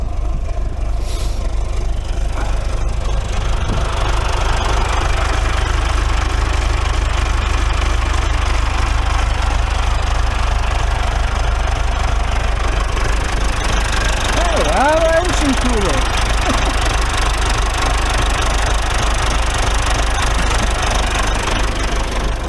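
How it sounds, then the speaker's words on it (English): A snowblower engine runs continuously with a deep, even drone throughout, loud and close, with brief louder bursts of noise early on and a faint warbling whine near the middle. "I have to raise the snowblower"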